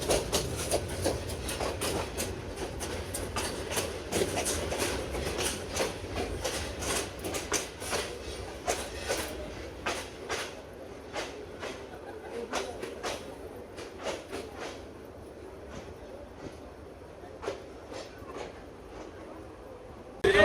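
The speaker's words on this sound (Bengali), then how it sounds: "লেট নিয়েই গৌরীপুর জংশনে প্রবেশ করছে বিজয় এক্সপ্রেস ট্রেন" Bijoy Express train pulling into Gouripur Junction, a steady run of rhythmic wheel clacks over rail joints that slows and thins out toward the end, with a faint voice in the background.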